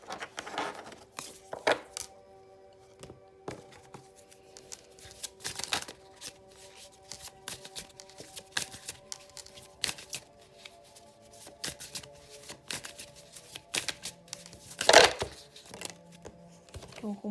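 Tarot cards shuffled by hand in repeated crisp riffling bursts with soft taps between, close and fairly quiet, with no talking.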